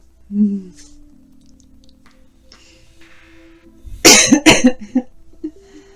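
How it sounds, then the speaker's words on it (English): A close, harsh cough bursts out in a quick series of two or three hacks after a quiet stretch with a brief faint vocal sound. "I know my coughing can be loud"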